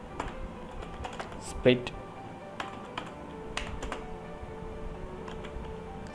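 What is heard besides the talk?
typing on a computer keyboard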